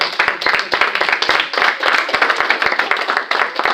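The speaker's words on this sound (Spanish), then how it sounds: "Quiero dar palmas al Rey en esta hora." A church congregation claps for the King during a sermon, sharp hand claps in a quick, steady rhythm over a broad wash of crowd applause, close and loud throughout.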